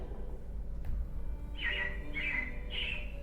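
Robins chirping outdoors, a few short bright calls in a row at moderate distance over a steady low background hum.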